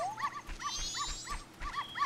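Dogs in the dog race of the Legend of Zelda: Majora's Mask on the N64 give quick, repeated high yips and whimpers in a steady bouncing rhythm, like a cartoon chorus of small barks over a quiet game background.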